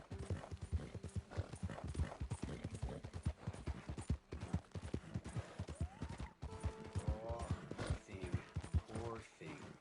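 Horse hooves clip-clop steadily and close in Red Dead Redemption 2, a fast continuous rhythm running throughout, joined by a short neigh and game dialogue voices on top.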